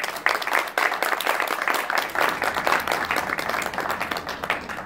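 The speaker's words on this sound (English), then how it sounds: "Please give them all a round of applause." A comedy club audience claps steadily through the whole stretch in a dense, sustained round of applause, loud and close, with no voices over it.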